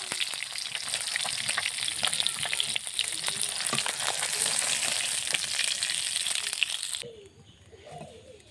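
Fish frying in hot oil gives a dense, continuous crackling sizzle for about seven seconds, then drops abruptly to quieter background sounds.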